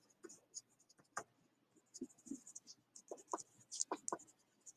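Pen or pencil writing on paper, soft scratchy strokes in short irregular bursts, quiet and close, with faint breathy sounds between.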